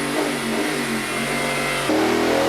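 Ducati 748 SPS sport motorcycle engine revving hard and continuously, a loud, close, steady high-pitched drone that steps up sharply in pitch near the end, with no voices.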